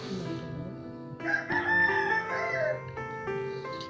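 Roosters crow outdoors, one long cock-a-doodle-doo rising clearly over a quieter crow and soft clucking, fairly near and alone without talk.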